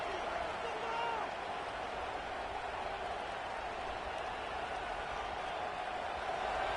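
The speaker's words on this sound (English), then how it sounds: "this crowd is fired up. Listen to this noise here." A packed stadium crowd in a college football video game keeps up a constant, loud roar of cheering, steady and unbroken from start to finish.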